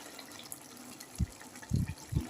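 Thin rice-flour paste poured into a simmering bottle gourd and shrimp curry, heard as a few short wet splashes and glugs near the end over a faint kitchen background, close and without talk.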